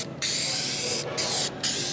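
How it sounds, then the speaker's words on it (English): Tar remover is sprayed onto car paint covered in heavy tar: three close, loud bursts of aerosol hiss, the first short and the next two longer, separated by brief pauses. "So I'll go in here and lightly spray over this stuff."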